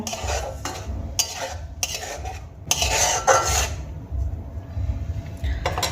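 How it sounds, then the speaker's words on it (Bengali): Spices stirred with a little water in a pan while cooking fish in mustard paste, with metal utensil scrapes and clanks against the pan in uneven bursts over a low background hum, close up and without speech. "এবার খুব ভালো করে নাড়িয়ে চাড়িয়ে নেব।"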